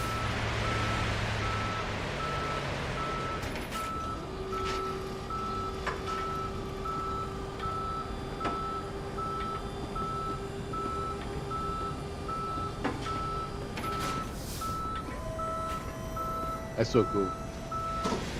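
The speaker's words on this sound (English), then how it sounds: "One of the coolest animations in video games is this tow truck." A tow truck in the Police Simulator video game gives off a steady series of evenly spaced electronic reversing beeps over a low engine drone and mechanical clunks, with someone talking briefly near the end.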